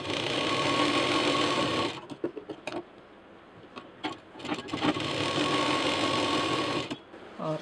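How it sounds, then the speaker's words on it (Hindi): A finishing sewing machine runs a seam on a zipperless tiffin case in two loud, steady bursts of rapid stitching, separated by a pause filled with clicks and handling. "ये जो सिलाई है इस पर हम एक फिनिशिंग की मशीन चला देंगे"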